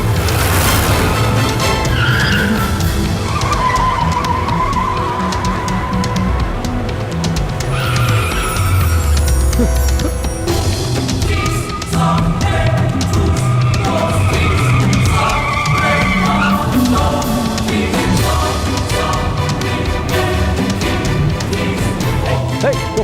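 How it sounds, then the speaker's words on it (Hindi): Cars racing and skidding in a Hindi-dubbed South Indian movie chase: roaring engines, squealing tires and skids run continuously and loudly, layered with a dense soundtrack mix. "उस गाड़ी को ओवरटेक करके जा।"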